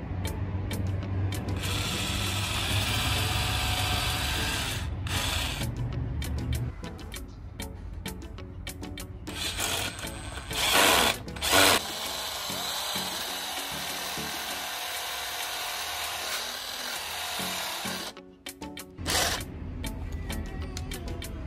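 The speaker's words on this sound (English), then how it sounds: "I'm going to drill holes" A power drill whirs steadily for long stretches, with ratcheting mechanical chatter and brief pauses between runs; close and fairly loud throughout.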